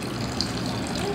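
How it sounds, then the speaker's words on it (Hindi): Water gushing and pouring out of a plastic bottle used in a smoking demonstration, a continuous splashing flow, close and steady. "हम लोग पूरा पानी निकाले दे रहे हैं कि जिससे सिगरेट का भी काम खत्म हो गया है और पानी भी निकल रहा है"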